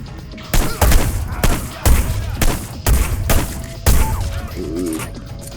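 Gunshots in Hitman Blood Money, five loud, heavy booming shots spaced about a second apart, each ringing out briefly before the next.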